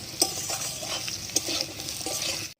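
Vegetables sizzling in a pan while a utensil scrapes and stirs them in a few irregular strokes, close up, with no talking.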